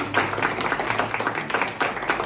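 Steady, loud clapping from a church congregation fills the space, a thick wash of many hands with faint voices underneath.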